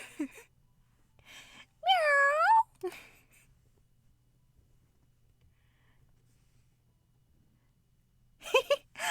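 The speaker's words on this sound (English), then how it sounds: "Mina meows happily as she runs over to my feet" Cartoonish cat meow from a romance visual novel game, a clear rising-falling mew near the start, later followed by a brief vocal sound, with quiet gaps between.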